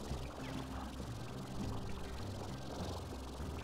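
Steady, dense gushing of water fills the whole stretch as water is loaded up in the video game Slime Rancher, a continuous rushing pour with no pauses or voices.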